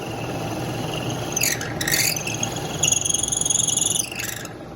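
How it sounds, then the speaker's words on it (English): A drill bores holes through a ukulele fretboard, with steady grinding rasp and bursts of high whine as the bit cuts and is raised to clear shavings, running continuously and close. "we'll drill that all the way through"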